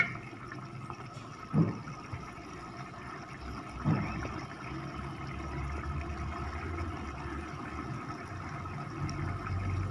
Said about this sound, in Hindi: अब इसमें उतना पानी डाल देंगे जितना हमें चावलों के लिए रिक्वायर्ड है।